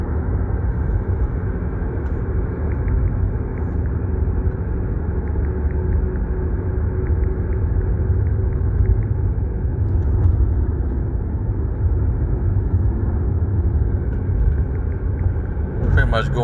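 Steady low car engine rumble and road noise from inside a vehicle being driven in Slovakia, continuous and even throughout with a brief click near the end.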